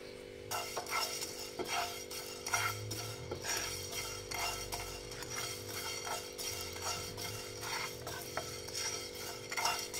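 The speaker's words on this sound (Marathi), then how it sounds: "इथं पॅन एक गरम करून घेतलाय मी, त्याच्यात धने भाजून घेऊया सगळ्यात आधी" Coriander seeds dry-roast in a hot pan over a low flame while a spoon stirs them, giving soft, repeated scraping and light rattling strokes with small clinks against the pan, steady and close.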